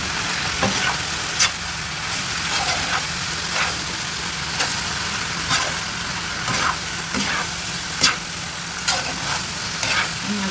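Pancit guisado noodles with chicken and cabbage being stir-fried, a steady sizzle broken by repeated sharp scrapes and clanks of the utensil against the pan every second or so, close and alone with no talk.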